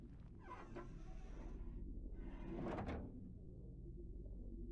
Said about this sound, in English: Working the winch will open the door.